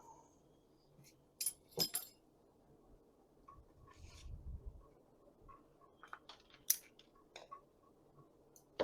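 Scissors cut the tie holding a potted bonsai tree, likely a portulacaria afra, giving scattered small snips and light clicks that are close but quiet, with soft handling rustles between them.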